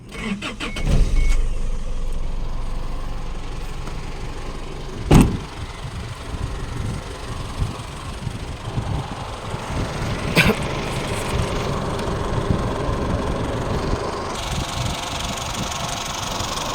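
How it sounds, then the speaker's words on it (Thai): A 2006 Isuzu D-Max Hi-Lander pickup's 3.0-litre engine turns over and catches, then settles into a steady idle with a couple of sharp clunks along the way and no one talking. "สตาร์ทเครื่องยนต์ก่อนครับ"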